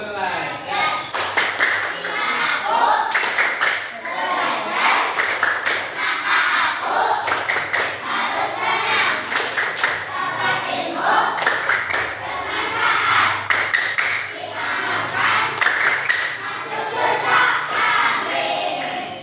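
Fourth-grade elementary schoolchildren in an Islamic studies class chant together while clapping in sharp rhythmic bursts, with short pauses between phrases, loud and close throughout.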